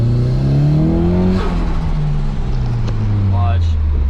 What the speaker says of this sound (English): I'm gonna have to like double clutch shift this thing like it's a semi.